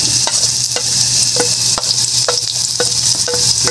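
Garlic and onion fry in a hot pan with a loud, dense sizzle, punctuated by regular clacking stirs of a spatula against the metal, close up with no voices.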